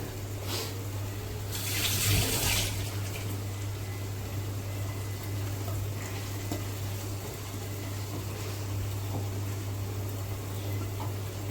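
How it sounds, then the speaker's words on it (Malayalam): A tap runs steadily while hands are washed in a kitchen sink, with water splashing close by and a brief louder gush near the start. A constant low hum sits beneath the flow. "ഞാനൊന്ന് കൈ കഴുകട്ടെ."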